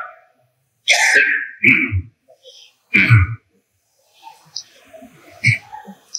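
A 70-year-old man coughs during a Ramadan sermon, giving a few sharp, close bursts separated by quiet gaps, followed by softer throat sounds and breathy noises.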